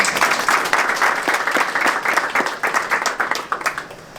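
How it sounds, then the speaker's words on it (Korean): A crowd at a football club team dinner claps together, dense and steady applause lasting several seconds with no voices over it. "박수 한번 쳐주시기 바라겠습니다"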